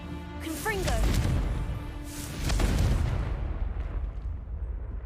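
A Confringo fire spell bursts in Hogwarts Legacy, a loud booming explosion with a broad crackling blast, followed by a second surge of rumbling fire that fades out, with a voice speaking over it.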